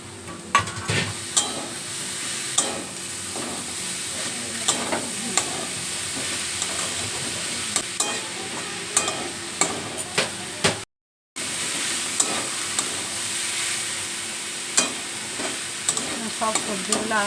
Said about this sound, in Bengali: বাঁধাকপিটাও একটু লাল লাল করে ভেজে দিয়েছি